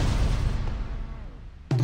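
Rockets exploding in the racing game Beach Buggy Racing 2, a booming blast that rumbles and fades, followed by a sudden fresh burst of sound near the end.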